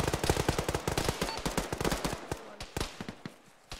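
Rapid bursts of close automatic gunfire in a military shooter game, dozens of sharp cracks in quick rhythmic volleys that thin out toward the end, with no talking over them.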